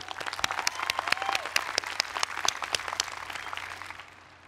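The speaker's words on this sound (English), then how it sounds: "So one more round of applause for the class of 2016." Audience applause for the graduating class of 2016 at a university commencement ceremony, dense sustained clapping that carries through most of the moment and then fades out toward the end.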